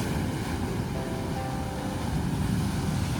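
Sea waves surging onto the beach at Digha during the monsoon, a steady roar of surf with a deep rumbling wash and some wind buffeting the microphone.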